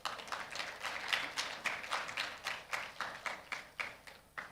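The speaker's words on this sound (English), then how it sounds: "The parents also deserve a big round of applause," An audience at a medical institute graduation ceremony applauds parents with a run of rhythmic, evenly spaced claps, moderately quiet and fading slightly toward the end.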